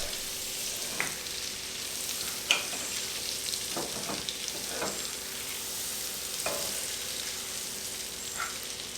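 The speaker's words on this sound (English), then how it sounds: "We don't want to brown the butter, we're just bubbling it." Butter bubbling and melting in a pan over a flame for bananas Foster, a continuous soft crackling sizzle with occasional light clicks and pops close by.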